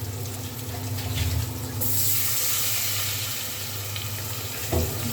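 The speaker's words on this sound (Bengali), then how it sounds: "এখন একটু পানি দিয়ে দিচ্ছি" Water splashes into a hot pan of frying turmeric and chili spices for a fish-head curry, giving a continuous hissing, bubbling rush that swells and settles, close by with no talk over it.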